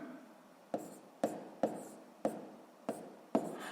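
Chalk or pen writing out a sixth-grade math fraction solution: six distinct sharp taps or strokes spaced roughly half a second apart, each followed by a short scratchy trail, fairly quiet and close with no talking.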